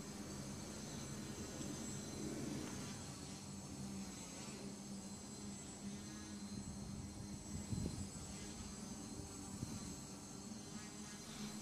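An RC VTOL aircraft hovering on unbalanced propellers with undamped vibrations, giving a continuous insect-like buzzing drone with harmonic whine, steady and fairly faint throughout, no speech.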